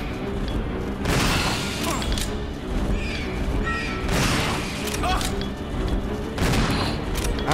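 Shotgun blasts in the Resident Evil 0 video game: three heavy booming shots a few seconds apart, each with a short ringing tail, over ongoing game sounds and someone talking.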